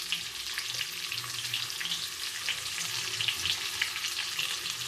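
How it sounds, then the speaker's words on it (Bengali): Potatoes seasoned with salt and turmeric fry in hot oil for a home chicken curry, giving a steady close sizzle with faint crackles throughout and no voices. "এবার এর মধ্যে আলুগুলোকে আমি জাস্ট ভেজে নেব, একটু নুন হলুদ দিয়ে ভেজে নেব।"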